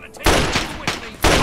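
Assault rifle fire in Fallout 3, with three loud, close bursts of shots broken by short pauses.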